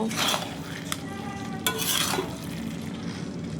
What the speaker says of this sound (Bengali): তারপর ধনেপাতা ও চেরা কাঁচা লঙ্কা দিয়ে মিশিয়ে নেব